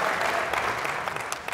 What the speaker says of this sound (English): Round of applause for the Philippines.